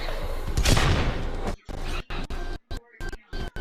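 Blunderbuss fire in a video game: a dense, loud burst of gunshot blasts in the first second and a half, then choppy fragments of game sound broken by gaps of silence.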